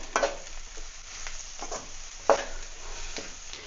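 Mixed vegetables sautéing in a pan for restaurant-style egg fried rice, with a soft, low hiss broken by a few sharp scraping stirs of the spatula, fairly quiet and close.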